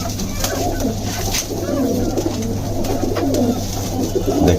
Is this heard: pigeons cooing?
yes